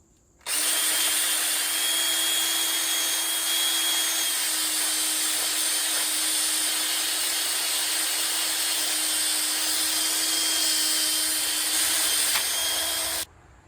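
A power drill with a cleaning attachment whirs steadily and loudly for about thirteen seconds, scrubbing old sealant off the threads of a water pump bolt from an LS swap into a 1951 Hudson.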